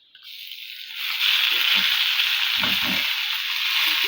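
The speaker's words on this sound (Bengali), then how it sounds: "শাকটা ভাজি হোক" Wet sanna shak greens drop into a hot pan and set off a loud, hissing sizzle that swells and holds steady, with a few soft knocks of stirring near the middle and end.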